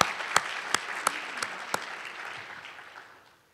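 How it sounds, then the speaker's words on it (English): An audience at a medical school Match Day ceremony applauds: steady clapping with a few sharp individual claps standing out, gradually dying away over a few seconds. "So this is a big round of applause for you."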